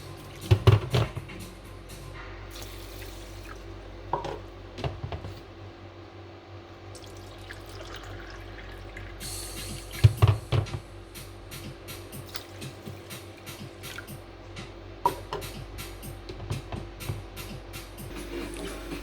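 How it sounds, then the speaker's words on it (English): Cold water from a kettle splashes and trickles into a pot in uneven bursts, with clunks and drips between pours, close up and fairly quiet. "I'm using the kettle, but it's cold water, it's easier for me to pour."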